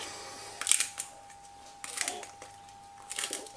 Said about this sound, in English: This grinder's not very good.